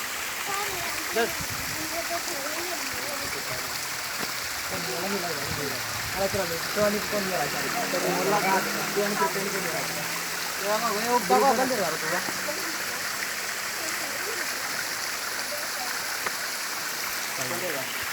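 Amboli waterfall at the Amboli Ghat tourist spot, a steady broadband rush of falling water heard continuously from a moderate distance, with faint crowd noise and scattered voices mixed in.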